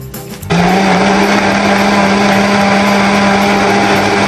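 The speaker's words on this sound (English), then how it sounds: "That way we can put them in the blender." A countertop blender starts up abruptly and runs continuously, loud and steady with a high whine, pureeing cooked chili peppers for brisket chili.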